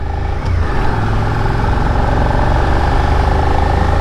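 A 2023 Suzuki SV650 motorcycle engine pulls in 4th gear up a steep hill, a steady, loud, sustained drone with a constant low hum throughout and no talk over it.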